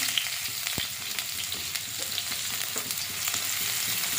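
Chopped onions fry in a hot kadai with panch phoron, a steady close hiss and crackle that runs throughout, broken by occasional light spoon taps and scrapes.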